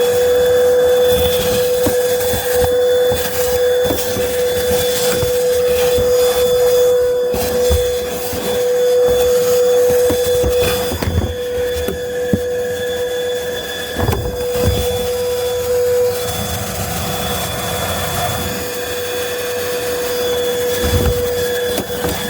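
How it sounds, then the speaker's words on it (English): A vacuum cleaner runs continuously inside an RV with a steady drone and a whining tone, loud and close, with occasional bumps and scrapes. "I'm going to vacuum first."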